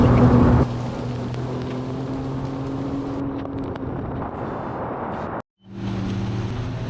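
Heavy rain roars steadily and loudly in Mexico, near Chetumal and Bacalar, with a brief dropout near the end before the downpour resumes; no one speaks.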